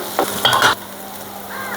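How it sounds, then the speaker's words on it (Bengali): Koi fish fry lightly in oil while being stirred: a brief burst of scraping and clinking from the stirring, then a soft, steady sizzle. "এই যে তেলে হালকা ভেজে নিলে ফ্লেভারটা ভালো হয়"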